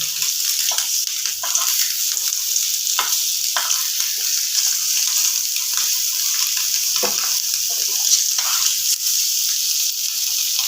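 Eggs frying in a pan with a little turmeric, a steady bright sizzle and crackle that runs continuously with no voices.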